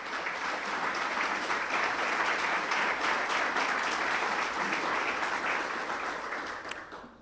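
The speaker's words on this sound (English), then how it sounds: "Please give Ralph a great round of applause." Sustained applause from a crowd at a mayoral State of the City address in Elmhurst, loud and steady for several seconds before starting to fade at the end.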